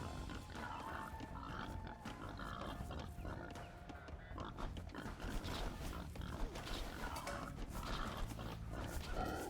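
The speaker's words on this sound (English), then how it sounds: "So luring a boar right now." Grunting, snorting boar noises repeat over a busy background of Age of Empires-style strategy game sounds, moderately loud and continuous.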